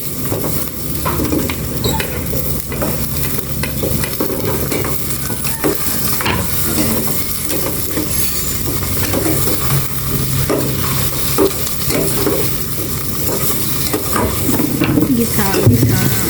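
Tomatoes sauté in a hot pan, a steady loud sizzle and crackle with occasional scrapes and stirring clatter throughout.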